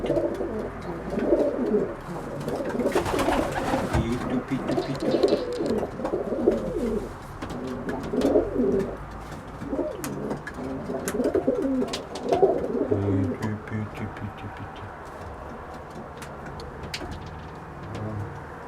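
Pet racing pigeons coo in repeated soft, throaty rolling calls close by, several overlapping in bursts that fade toward the end, with a car passing faintly in the background.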